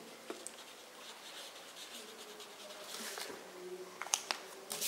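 A pen or marker writes a single word on a board or paper, making faint, quiet scratching strokes with a few light taps near the end, set against low room noise.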